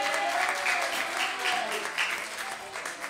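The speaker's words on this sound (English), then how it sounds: "Let's get them a hand clap." A church congregation at a Good Friday service applauds the choir with sustained, fairly loud clapping, while voices can be heard over the applause.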